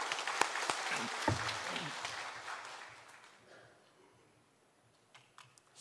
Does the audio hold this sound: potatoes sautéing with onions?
no